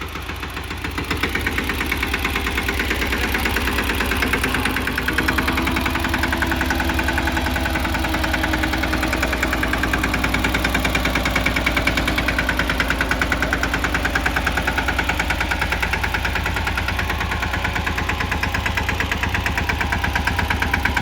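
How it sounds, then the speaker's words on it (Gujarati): A tractor engine runs continuously nearby with a steady knocking chug and a deep vibrating drone, loud and unbroken. "આરતી જોવો ટ્રેક્ટર હાકે"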